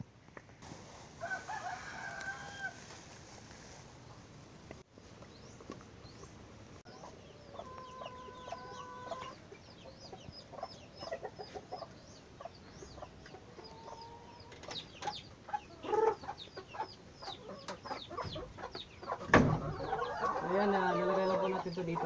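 Chickens on a farm cluck and call while being fed fresh grass, with a rooster crowing loudly near the end; the clucks come in scattered bursts over a steady outdoor background.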